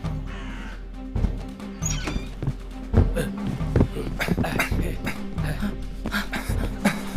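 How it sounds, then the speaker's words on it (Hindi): Harsh cawing of an ugly black crow-like bird in an animated pirate treasure story, several loud caws in quick irregular bursts over a busy background of music and effects. "उन बदसूरत काले पक्षियों में से एक है।"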